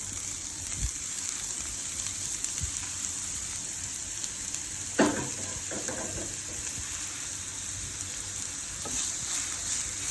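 Minced garlic and onion sizzle steadily in hot oil for a creamy chicken and mushroom dish, a close, continuous frying hiss with a few soft clinks and stirring knocks.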